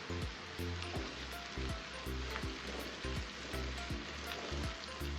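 Tomatoes sizzle and fry in a pan for a paneer curry, a steady bright hiss interrupted by regular scraping stirs of a utensil, close and continuous with no talking.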